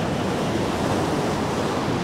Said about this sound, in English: So you can see there's wave breaking out here.